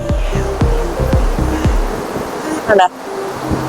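Rough sea surf at Kovalam Beach in Kerala: a continuous broad wash of breaking waves close by, with people talking over it and a brief louder burst near the end.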